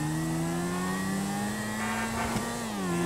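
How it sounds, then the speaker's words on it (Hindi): A Honda CBR 1000 RR sportbike ridden in GTA V, its engine a steady mid-pitched drone that rises and dips slightly as the throttle shifts, close and continuous with no talk. "अभी जो मैं बाइक चला रहा हूँ ये है"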